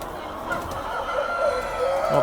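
Chickens and roosters cluck on a breeding farm in a short, moderately loud burst of busy fowl calls, with a brief crow-like note near the end.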